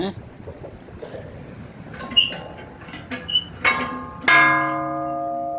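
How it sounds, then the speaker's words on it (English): An old dinner bell at a regional history center rings, first with a few light taps and clinks, then one loud clang near the end that rings on with a long sustained tone, heard close with no talking. "here we are with I guess a dinner bell"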